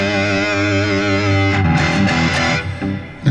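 A PRS SE Custom 24 electric guitar played through a Super Distortion pickup rings out in a loud, sustained distorted chord, then breaks into a few choppier picked notes near the end.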